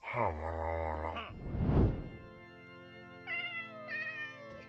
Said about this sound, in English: the cat sounds in Minecraft are just basic recordings of my funny cat